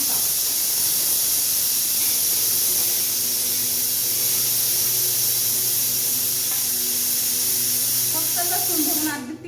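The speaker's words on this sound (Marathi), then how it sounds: "मिरच्यांचा ठसका. मिरच्या तळल्या ना मित्रांनो" Green chillies, hot lavangi chillies stuffed with garlic, frying in hot oil in a home kitchen, giving a steady loud hiss and sizzle throughout that cuts off near the end.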